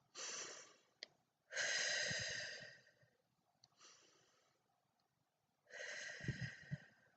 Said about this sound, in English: Take those deep breaths again.